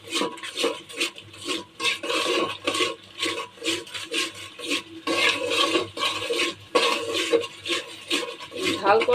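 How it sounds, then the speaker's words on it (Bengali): A utensil stirs and scrapes packet haleem spices as they sauté in a pot, a steady rhythmic rubbing close up, with a voice talking now and then underneath. "এখন এই মশলাটা কষিয়ে নিচ্ছি।"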